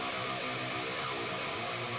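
Dense, loud distorted guitar track from a Killing Floor 2 soundtrack mix plays on its own, a thick sustained wall of chords with the low end cut.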